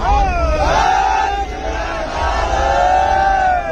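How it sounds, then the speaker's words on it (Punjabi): Large crowd of farmers at a protest on the Shambhu border shouting Sikh jaikara slogans, a loud sustained chorus of rising and falling voices that swells twice. "ਜੈਕਾਰੇ ਹਵਾਵਾਂ ਦੇ ਵਿੱਚ ਗੂੰਜ ਰਹੇ ਨੇ ਇਸ ਵਕਤ"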